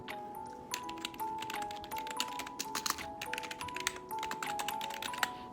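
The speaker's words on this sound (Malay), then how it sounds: "saya bagi teaser dengan mechanical keyboard" Typing on a pink Fantech Sakura Edition mechanical keyboard: rapid, fairly quiet clicking keystrokes in irregular bursts with occasional louder clacks, close up and without talk.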